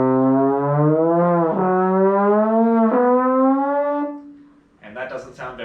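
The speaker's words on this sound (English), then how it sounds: "A scale would sound like this." Trombone gliding upward through a scale with smooth slides connecting the notes, a steady sustained brassy tone for about four seconds before a short, rougher burst of sound at the end.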